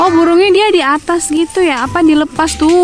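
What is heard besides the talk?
No everyday noises stand out.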